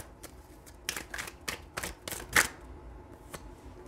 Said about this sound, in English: Let's draw 3 cards here to clarify.